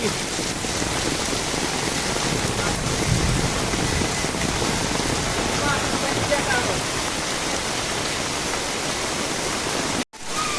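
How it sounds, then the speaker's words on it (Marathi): Steady, heavy rain of the first monsoon pours down in Kumbhavade village in the Konkan, a dense even hiss that holds unbroken for about ten seconds before a brief dropout near the end. "इकडे भरपूर पाऊस पडलो"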